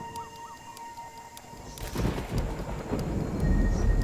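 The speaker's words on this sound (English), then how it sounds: "A storm is brewing." Thunder rolls in as a storm brews over Singapore's jungle, a deep rumble swelling after a few bird calls and building into a loud, sustained roar with rain-like hiss.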